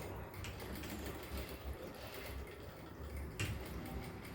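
A sewing machine stitches a seam on a straight-cut pant, giving a faint, steady mechanical hum that runs continuously without pause and with no voices over it.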